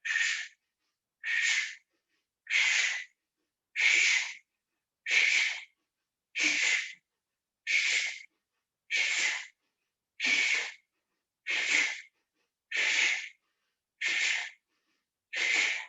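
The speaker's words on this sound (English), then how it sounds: "Practicing the bellows breaths." Thirteen rapid, forceful bellows breaths in qigong practice, each a sharp hissing burst of air through the nose or mouth, evenly spaced about one per second, close and clear with silence between.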